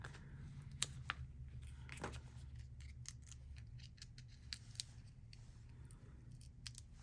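Close scissors snipping ribbon for a handmade card, a few sharp clicks and cuts scattered over a low steady background hum, quiet and intimate.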